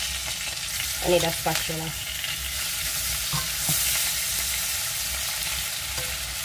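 Salmon fillets fry in a pan with a steady, close sizzle, broken by a few clunks and scrapes as the fish is turned, while a voice speaks briefly near the start.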